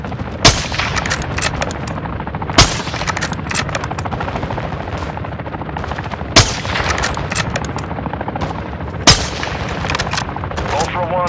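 Call of Duty combat with bursts of automatic gunfire and sharp loud gunshot cracks every couple of seconds over a busy battle din, with radio voices talking over it.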